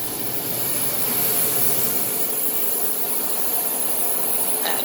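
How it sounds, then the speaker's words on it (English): A 2001 Carrier window air conditioner runs at a motorcycle shop, giving off a loud, steady broadband hiss and hum that holds level the whole time, close by, with no one talking. "That thing hisses really loud."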